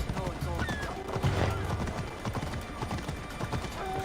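Horse hooves clop at a steady trot in the ancient Greek setting of Assassin's Creed Odyssey, moderately loud, with a brief whinny and some faint background chatter.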